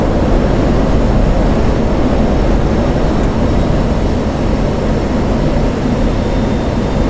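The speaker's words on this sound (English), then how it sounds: "Congratulations, you've just taken off in the Viper." F-16 Viper jet in the DCS flight simulator climbing after takeoff, a steady loud broadband engine roar that holds level throughout with no pauses.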